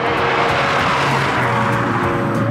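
A Kia Ceed GT rolls over bumpy, irregular ground, giving a steady loud rumble of road and tyre noise with a low drone from inside the cabin, continuous throughout.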